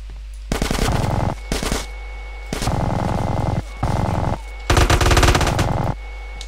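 Automatic gunfire in GTA San Andreas, loud rapid bursts of machine gun fire in four or five runs separated by short pauses.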